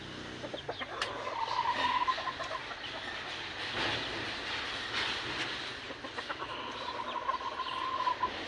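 Chickens cluck in a backyard in scattered bursts, heaviest near the start and again at the end, over a steady low rumbling background. There is no talk.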